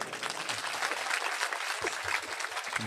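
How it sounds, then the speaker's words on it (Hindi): An audience applauds for the poet Nadeem Farooq at a poetry gathering, a steady, moderately loud patter of many hands clapping without a break. "नदीम फारूक के लिए एक बार तालियां बजाइए"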